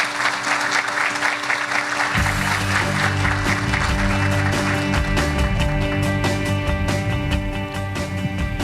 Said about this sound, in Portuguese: Oladi, recebe os aplausos de todos nós